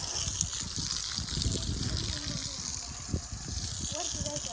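Water from a pipe sprayed onto the plastered wall of a farmhouse bungalow, a steady close hiss and splash that runs throughout, with people talking over it.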